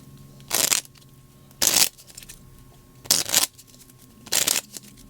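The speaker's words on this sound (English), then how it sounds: "I'm gonna just shuffle this a few more times and we will draw some cards" A deck of playing cards is shuffled four times, each a loud, crisp riffle lasting under half a second, separated by quiet pauses, close up with no talking.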